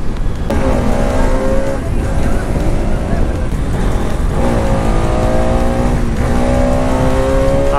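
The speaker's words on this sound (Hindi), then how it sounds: "ये बुलेट देखो कैसे पीछे बबल कर रही है, देख रहे हो कैसे ऐसे बबल जैसी कर रही है बुलेट।" Royal Enfield Bullet motorcycle exhaust bubbling and thumping steadily on a city street, loud and continuous with the engine note rising and falling in waves.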